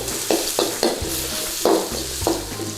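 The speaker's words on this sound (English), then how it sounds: "what we're going to do is stir fry these onions until they're brown." Onions stir-fried in hot oil until brown for chicken dopiaza, with a steady sizzle broken by scraping stirs that recur roughly every half second.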